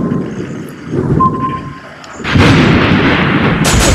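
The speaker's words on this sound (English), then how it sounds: "I took a torpedo." Torpedo hit on a warship in the World of Warships Blitz naval video game: a deep rumbling boom swells in, then a louder, broad explosive roar bursts in and sustains over a low rumbling background.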